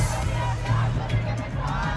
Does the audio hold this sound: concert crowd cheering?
yes